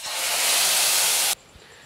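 Ground masala paste hitting hot oil in a pan while cooking chicken kola, a loud, steady sizzling hiss close up for over a second that cuts off abruptly into quiet.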